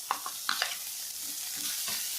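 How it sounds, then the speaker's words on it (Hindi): Tomatoes and green onion fry over a medium flame in a pan for spinach soup, giving a steady soft sizzle broken by a few sharp stirring scrapes early on. "मिडिल फ्लेम पर हम इसे 1 मिनट भूनेंगे। और इसमें हम अपना टमाटर भी डाल देते हैं।"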